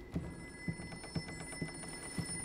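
A telephone rings in the Layers of Fear horror game, five evenly spaced bell-like rings about half a second apart, fairly quiet against a faint humming background, with no voices.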